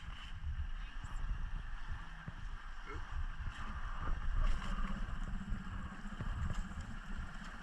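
A Manta 5 sea bike moves across open water, with steady water wash and wind buffeting the microphone, punctuated by occasional splashes, while voices talk faintly nearby.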